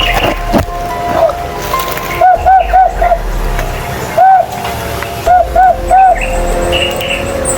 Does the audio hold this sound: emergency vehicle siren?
no